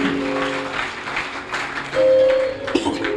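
A church congregation applauds the Lord during a Sunday service: a burst of clapping rises over sustained keyboard chords, swelling louder near the end.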